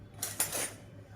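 A spoon clinks twice against a cooking pot of chicken dum biryani, two quick metallic taps followed by a short scraping rattle, close and clear with no speech.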